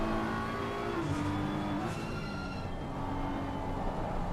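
A front-engined BMW race car engine in the racing game Assetto Corsa Competizione at Laguna Seca drones and shifts pitch as it revs, a steady mechanical whine with no talking.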